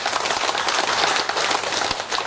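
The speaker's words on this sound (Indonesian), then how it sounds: "Mari kita tepuk tangan sekali lagi" Steady, dense clapping from a crowd at a school building inauguration, loud and continuous throughout with no pauses.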